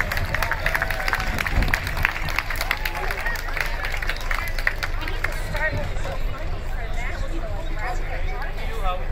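An outdoor crowd at a charity car and bike show with a touch-a-truck event claps and cheers amid general chatter and babble, with the applause strongest early and fading into crowd hubbub.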